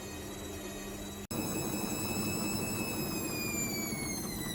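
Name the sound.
washing machine drum spinning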